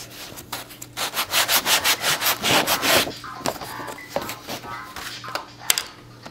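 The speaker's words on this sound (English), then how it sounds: "sand each wing. This is a good time to add a little bit of a bevel to the wing if you want." Sandpaper rubs back and forth over the wing of an Estes model rocket, a close, rhythmic run of strokes that builds to a steady scrubbing and then slows into scattered, lighter passes.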